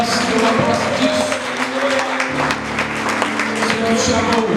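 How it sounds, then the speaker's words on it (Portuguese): A congregation claps steadily in a Methodist church at a Christian conference in Rio Novo, Minas Gerais, the dense applause continuing throughout over sustained musical tones and a voice. "Você pode aplaudir ao Senhor aí, meu irmão"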